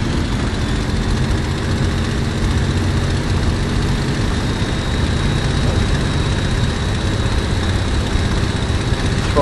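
A Messerschmitt Me 109 aircraft engine runs at a constant loud roar, a dense unbroken propeller and engine drone that stays steady from start to finish.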